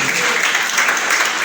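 Dense, loud applause from a church congregation, a continuous wash of many hands clapping with no gaps.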